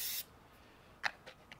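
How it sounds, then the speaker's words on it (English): A short, loud burst of aerosol spray hissing into a generator carburetor at the start, followed by near quiet with a few faint clicks. "Spray a liberal amount,"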